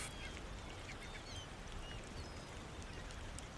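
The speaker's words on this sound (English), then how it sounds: "listening to waves and the screams of seagulls and old men" Seagulls cry over a seaside village in the video game Tainted Grail, with faint, scattered calls carried over a steady wash of waves and ambience.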